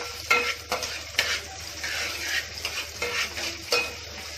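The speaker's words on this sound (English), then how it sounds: "We'll add green chilies over it. Then we'll saute again." Green chilies being sautéed with soya chilli in a pan, a steady sizzle broken by repeated scraping stirs of a spatula, close and fairly loud, with no voices.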